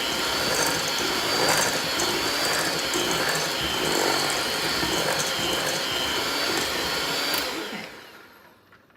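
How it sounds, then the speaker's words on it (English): An electric mixer whirs steadily and loudly while blending mini chocolate chips into brownie bite dough, then winds down and stops near the end, with a brief spoken word. "Done with my mixer."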